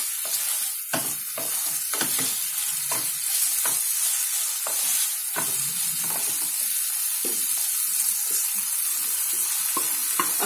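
Soaked sabudana tossed into potatoes and spices frying in a pan for sabudana khichdi, a constant close sizzle broken by frequent sharp scraping stirs of a spoon, no voices.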